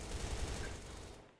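Rapid, fairly quiet HK gunfire in the shooter game Battle of Lost Empires, a dense burst of automatic shots that fades out at the end, with no one talking.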